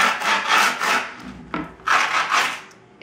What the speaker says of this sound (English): take your screwdriver or whatever device you have for doing this, and you're just going to run it along the edge